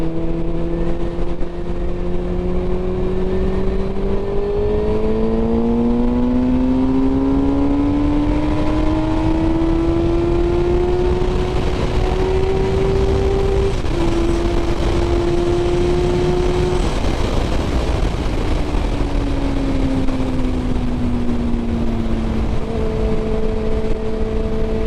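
A motorcycle accelerating along a favourite country road, its engine note climbing through the gears in rising sweeps with brief drops at each shift, loud and close over constant heavy wind rush, with no talking.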